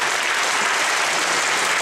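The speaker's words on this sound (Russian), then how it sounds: "спасибо за ваши аплодисменты" Dense, steady audience applause fills a jazz concert hall, a continuous loud wash of many hands clapping with no voices above it.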